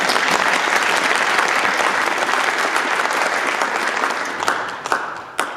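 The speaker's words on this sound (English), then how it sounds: "Give them a round of applause." Audience applause at a music technology guest lecture, a dense steady wash of clapping that holds loud and then thins out, with a few last claps at the end.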